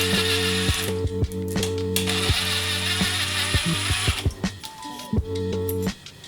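Ratchet clicking in quick bursts while loosening 10 mm bolts on a Mazdaspeed 3 transmission during a rebuild, close and steady with metallic taps and brief pauses between turns.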